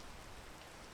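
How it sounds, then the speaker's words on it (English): Steady, soft rain falls in a mountain-climbing video game, an even wash of pattering drops with no talking over it. "Oh, why does it rain as soon as I start climbing?"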